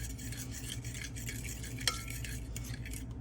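A utensil stirs a mixture in a bowl with soft repeated scraping strokes, plus one brief sharp clink, over a low steady hum.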